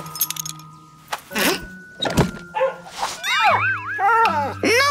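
Cartoon dog sounds, with a few short thumps and yelps up front, then a run of rising and falling whimpering whines toward the end. The sounds are close and moderately loud, and no speech can be heard.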